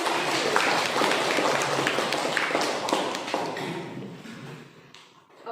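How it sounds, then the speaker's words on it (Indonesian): A classroom of students applauds in a lively burst of clapping that is loud at first and tapers off toward the end, with a few voices mixed in. "tepuk tangan buat"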